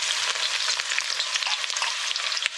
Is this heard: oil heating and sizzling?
yes